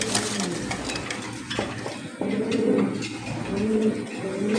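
Big exhibition pigeons at a pigeon sale coo and murmur softly over a busy, steady hiss of background noise, their low throaty calls repeating through the stretch.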